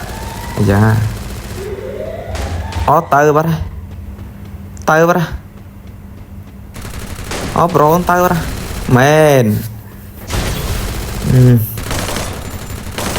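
Gunfire in the mobile battle game Free Fire during a squad-versus-squad match: several short bursts of shots come under steady, excited talk from players.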